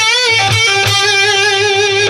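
A sustained, loud electric guitar line from an outro solo, with bent notes and wavering vibrato, played alone with a bright, distorted tone.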